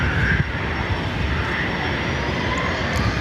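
A Ryanair jet airliner at Dublin Airport, its engines giving a steady broad roar throughout the short stretch, close and fairly loud, with no talking.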